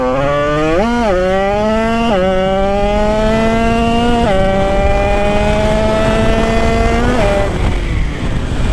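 An 80cc moped engine with an Italkit kit revving hard and climbing in pitch, with several quick drops as the gears shift, loud and close, with a rising whine between shifts.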